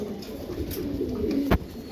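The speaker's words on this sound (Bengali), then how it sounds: "এখানে একজোড়া কবুতর আছে গলা কবুতর" Giribaz pigeons in a loft give soft, low coos close by, one short rising call standing out near the end, with no voices over them.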